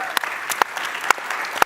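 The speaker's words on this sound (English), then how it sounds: "Let's give a big round of applause to our panelists" Audience at a national Arab American convention applauds the panelists, a dense steady clapping with a few sharp louder claps standing out.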